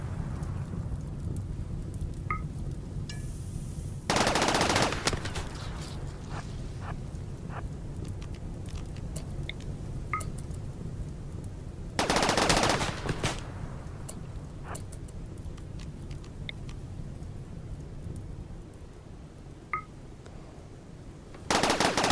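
Sustained rattling light machine gun fire from a Rimworld battle, a charge LMG chattering steadily, punctuated by a few louder sharp bursts.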